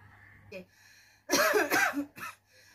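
Close, harsh coughing from a person indoors, a cluster of three or four rough bursts in quick succession, preceded by a short vocal sound and quiet breathing.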